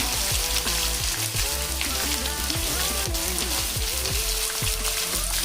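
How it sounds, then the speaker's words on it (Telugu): Chopped onions frying in a home kitchen pan for tomato bath, a steady close sizzle and crackle of oil running throughout, with busy background clatter and tonal hum layered over it. "ఉల్లిపాయలు జస్ట్ ఒక్క నిమిషం ఫ్రై అవ్వాలి."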